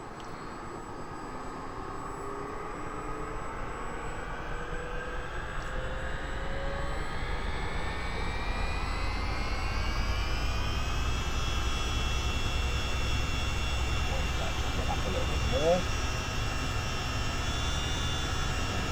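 Engine 2 of a CH-47D Chinook starts up in the Miltech Simulations game, its turbine whine climbing steadily in pitch and loudness over a constant roar before settling into a sustained high whine.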